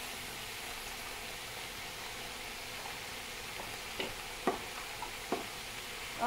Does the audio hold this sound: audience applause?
no